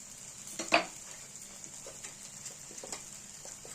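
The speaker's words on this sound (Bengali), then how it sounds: "ভেজে নেব যতক্ষণ না তেল ছাড়ছে" Masala fries in oil in a pan for Hyderabadi paneer, with a soft steady sizzle under a sharp clink of a spoon against the pan and light stirring scrapes.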